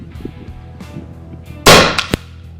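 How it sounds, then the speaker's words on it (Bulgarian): One loud, sharp report from an Effecto Spark Mini 5.5 mm air rifle, close and abrupt, with a brief metallic click just after it over quiet room noise. "Продължаваме с сесията от изстрели."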